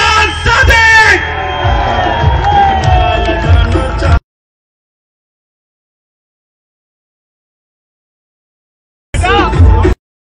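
Loud rally crowd for Sardar Ayaz Sadiq at a PML-N gathering, bellowing and cheering for about four seconds, then silence, then a short renewed burst of crowd noise at the end.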